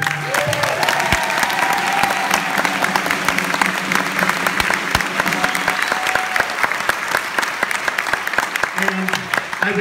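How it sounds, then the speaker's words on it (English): Loud, sustained applause fills a Dracut High School gathering in honour of two returning guests. A dense wash of many hands claps throughout, with voices and some tonal sounds mixed underneath. "Can we have a big round of applause?"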